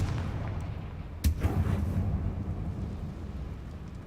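Confringo blasting spell detonating in Hogwarts Legacy: one sharp blast followed by a brief rumbling tail, standing out over a steady low ambient game drone with no talk.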